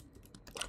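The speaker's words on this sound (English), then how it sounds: "and let's type" A few quick keystrokes tap on a computer keyboard, soft and close, in a brief, uneven burst with no talking.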